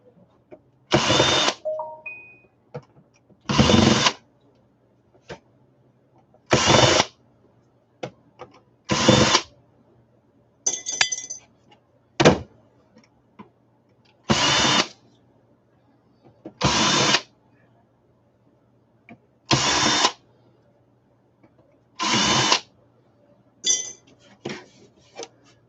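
A power drill runs in about ten short, evenly spaced bursts, backing screws out of items being stripped down, with brief clinks and rattles of loose metal parts between the bursts in a quiet room.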